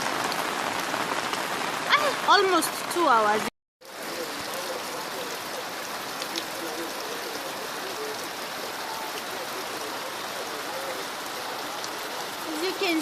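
Heavy rain pours steadily onto an umbrella in cold, flooded weather, a dense unbroken hiss that continues after someone speaks briefly at the start and a short gap of silence.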